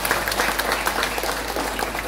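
An audience claps at a Balinese dance-drama performance during an arts festival, a steady, fairly loud patter of many hands throughout.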